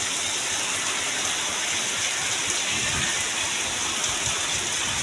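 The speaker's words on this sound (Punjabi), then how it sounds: "ਬਹੁਤ ਜ਼ਿਆਦਾ ਤੇਜ਼ ਹੋ ਗਿਆ ਮੀਂਹ ਹੁਣ" Dense, constant downpour roaring evenly throughout over farm fields, with a heavy wash of rain drumming on surfaces nearby, including a shed roof.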